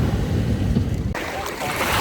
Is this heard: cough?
no